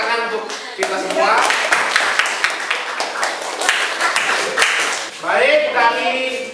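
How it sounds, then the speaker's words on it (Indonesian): Classroom applause as students clap together for a few seconds, dense and close, while voices call out over the clapping. "Tepuk tangan untuk kita semua"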